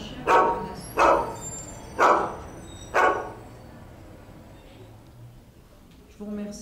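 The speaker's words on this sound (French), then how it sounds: "un chien qui menace." A threatening dog in a virtual reality park scene barks four times in an even rhythm, each bark loud and close, followed by quieter background noise.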